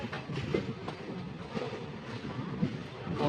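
The Khurda Road Express rolls slowly into a Bhubaneswar station platform at about 15 km/h. Wheels give a soft, rhythmic clickety-clack over a steady low rumble, moderately quiet, with no talking.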